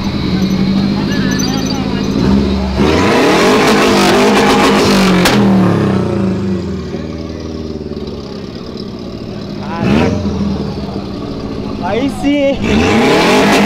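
A 1998 Fiat Marea fitted with a 2.5 turbo engine revs and accelerates hard at an illegal street race, loud and close, with rising engine pulls and gear changes while people talk and shout over it.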